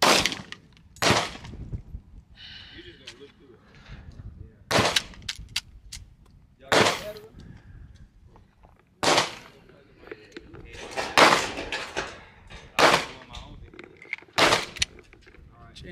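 Handgun shots ring out at an outdoor shooting range, around nine loud, sharp cracks fired at irregular intervals, with people talking between them.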